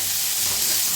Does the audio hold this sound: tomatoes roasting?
yes